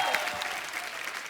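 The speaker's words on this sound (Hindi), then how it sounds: "आप सबकी जोरदार तालियों के बीच प्लीज वेलकम" A brief burst of dense audience applause on a TV comedy show, steady clapping from a crowd.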